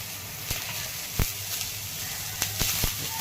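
Chopped onion, garlic, ginger and green chili frying in a pan, with a steady low sizzle broken by several sharp crackles and pops spaced through the moment.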